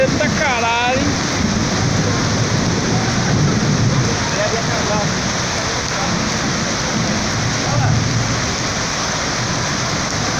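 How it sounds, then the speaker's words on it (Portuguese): Heavy tropical rain with thunder during a November storm in Rio de Janeiro state, a dense steady roar of downpour throughout, with low rumbles of thunder and faint voices talking underneath. "Já tá um tempinho chovendo."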